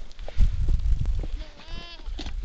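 Baby goats in Kauai's Waimea Canyon bleat in short, thin cries at close range, with a brief higher wavering call near the end over faint background noise.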